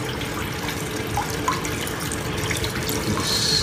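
Water runs steadily through a blue bowl gold concentrator, a continuous close-up splashing and trickling like a tap filling a sink, with small drips standing out near the end.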